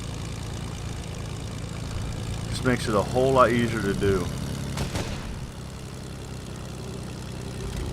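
A plane in Fortnite drones with a steady low propeller hum throughout, someone talking over it midway.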